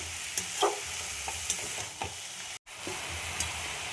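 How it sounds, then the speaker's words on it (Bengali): Banana blossom, potatoes and spices sauté together in a pan with a soft, steady sizzle, punctuated by repeated scrapes and knocks of a spatula stirring, with a brief dropout partway through. "এবার মশলার সাথে আলু সব কিছু মোচার সাথে সব কষিয়ে দেবো ভালো করে"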